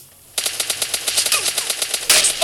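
Rapid automatic gunfire in a shooting video game, a steady string of close, loud shots lasting a couple of seconds, ending in a harsher burst.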